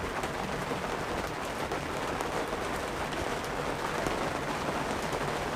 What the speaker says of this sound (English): listen to that rain come down.